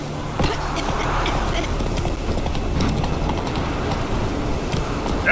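Geralt's horse Roach gallops in The Witcher 3, a steady rapid clip-clop of hooves running throughout, close and loud, with speech over it.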